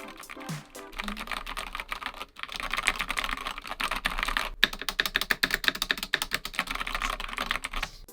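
Rapid mechanical keyboard typing, a dense run of crisp clacky keystrokes close up, briefly pausing twice before continuing at a fast, uneven pace.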